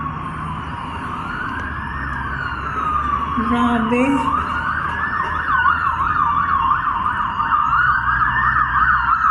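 Police sirens wail steadily and loudly as officers arrive at a burning car, the rising and falling tones continuing throughout under vehicle noise, with a brief exclamation from a bystander partway through.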